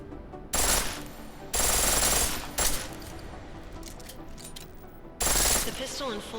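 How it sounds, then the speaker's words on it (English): A pistol fires in full-auto bursts in the video game Deus Ex: Mankind Divided, giving loud, dense rapid-fire volleys separated by short pauses, with game sounds in between. "The pistol in full auto will take down targets fast, but it'll burn through your ammo"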